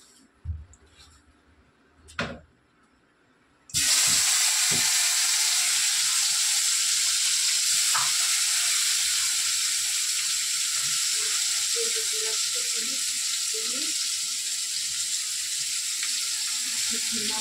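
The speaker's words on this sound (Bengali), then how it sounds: "তেল গরম হয়ে গেছে, আমি এবার উচ্ছেগুলো ভেজে নেবো।" Bitter gourd frying in hot oil in a kadai, a steady loud sizzle that starts abruptly after a few quiet seconds with faint handling knocks, then hisses on without a break.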